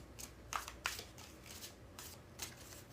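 Tarot cards riffled in a bridge shuffle, giving a string of short crisp flutters and snaps at an uneven pace, quiet and close with no voice.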